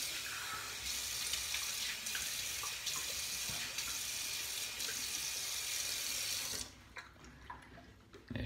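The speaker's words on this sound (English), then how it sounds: "I'm going to rinse my face." Water runs from a bathroom sink tap while a face is rinsed after shaving, a steady close rush with splashes that stops abruptly near the end, no talking.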